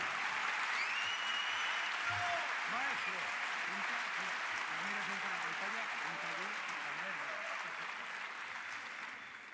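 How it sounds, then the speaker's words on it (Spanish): A large audience at a popular-science talk event in Pamplona applauds a speaker with sustained clapping and some cheering. Background music plays underneath, and the clapping fades slightly near the end. "Un aplauso enorme a Ambrosio Liceaga."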